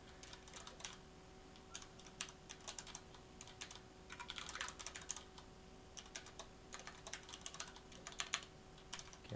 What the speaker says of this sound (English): Okay, I'm using a new keyboard,